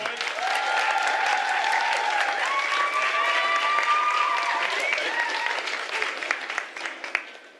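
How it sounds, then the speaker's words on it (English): A large outdoor audience at a live civic event in Surfers Paradise gives a sustained round of applause, dense and steady throughout, with some cheering and whistles mixed in before it thins near the end. "So, big round of applause."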